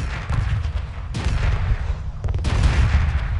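Heavy gunfire and booming blasts from a space battle in Homeworld roll on continuously, with sharp bursts breaking in around the one- and two-and-a-half-second marks, loud and close with no voices.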